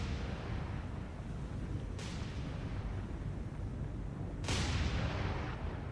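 Warship artillery fire in the naval combat game War on the Sea: two heavy, booming blasts a few seconds apart, each with a sharp onset and a long fading tail, over a steady low rumble.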